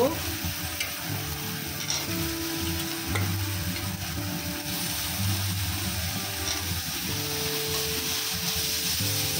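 A spoon stirs large boiled potato chunks into oily fried spice masala for peas ghugni, scraping steadily in the pan under a continuous close sizzle.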